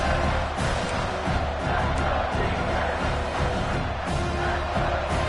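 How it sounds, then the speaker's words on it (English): A dense, steady crowd roar fills the whole stretch, loud and continuous with brief swells, like a stadium crowd cheering throughout, in the NCAA 26 college football video game. "the crowd really making some noise now"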